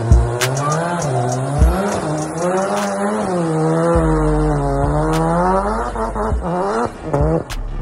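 Rear-wheel-drive Mazda RX-7 drifting, its engine revving and wailing through shifting pitch with sustained tire squeal, loud and close, with short breaks and a skid near the end.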